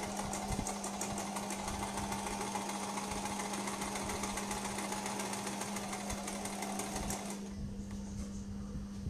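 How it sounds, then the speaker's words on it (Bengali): Sewing machine stitching the shoulder of a baby frock, a fast steady rattling whir with rapid needle ticks and a constant hum underneath, running continuously and easing slightly near the end. "সেলাই দিয়ে নিলাম"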